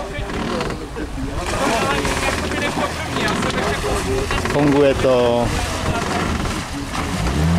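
A small motorboat's engine runs with a steady, loud droning hum on a test run after the steering wheel was repaired, while people talk over it.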